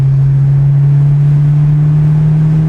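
A modified Honda S2000 drives with the roof down, its engine a loud, steady low drone with a strong tone and road rumble, heard from inside the car with no talking.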